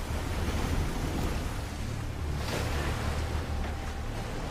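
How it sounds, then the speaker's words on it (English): Rushing white water from river rapids in a film scene, a steady dense roar that fills the whole clip without a break. "Never underestimate the power of white moving water."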